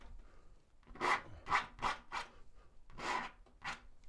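Palette knife scraping paint across a canvas during a wet-on-wet oil landscape painting, shaping a roof and gable; six or so short, close rasping strokes in an uneven rhythm, with no talking.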